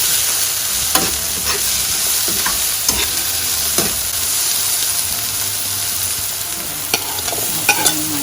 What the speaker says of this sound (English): Here I put in the spring onions and stir it constantly so that one side doesn't burn